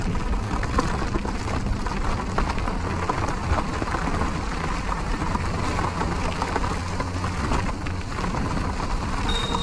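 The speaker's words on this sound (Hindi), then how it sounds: "बहुत बारिश है" Heavy monsoon rain pours steadily during a Honda Activa scooter ride from Mumbai toward Malshej Ghat, a dense, unbroken hiss and patter of drops on the rider's gear with low road and engine rumble underneath.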